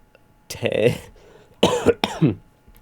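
A person coughs several times in short, harsh bursts, close to the microphone, with brief pauses between them.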